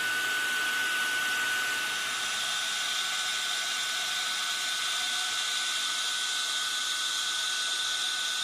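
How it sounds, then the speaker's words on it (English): A heat gun blows steadily on a gourd during embossing, a continuous loud hiss with a faint high whine, unbroken and close for the whole stretch. "now let's watch the magic happen as I use the heat gun on it"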